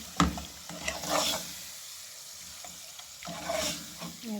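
Minced keema frying with salt and white cumin in a pan, stirred in short scraping bursts over a soft sizzle, with a quiet pause in the middle before stirring resumes.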